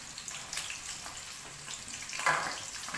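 Onions frying in oil in a pan for a Telugu-style chicken fry, a steady soft sizzle and crackle with a brief louder burst partway through, close and continuous with no talking.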